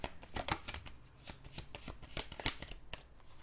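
A deck of tarot cards is shuffled close by, with quick riffling slaps and flutters repeating in a busy, even rhythm for a few seconds and no talking.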